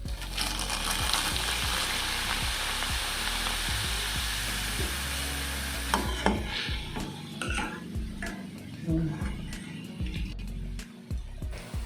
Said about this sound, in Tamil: காரா பூந்திக்கு வந்து நான் வெள்ளை அவல் எடுத்திருக்கேன் பொரிக்கிறதுக்கு.